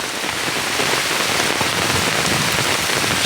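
A downpour hammers steadily nearby, a thick continuous hiss of rain with sharper spatters of drops striking hard surfaces; no speech.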